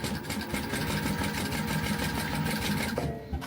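A sewing machine runs steadily for the whole stretch, stitching a bag lining along the edge of a pocket on a mini sling bag, with a dense, even mechanical whir that stops just before the end.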